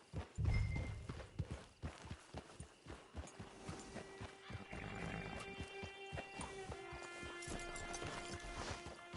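Horse hooves clip-clopping in a video game, a steady run of soft near hoofbeats with a louder thump at the start, over a faint ambient background and a sustained tonal hum.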